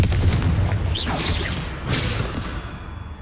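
Confringo, an explosive spell in the Hogwarts Legacy video game, lands as deep booming blasts with whooshing bursts, two or three heavy impacts over a few seconds amid rumbling game sound, with no talk.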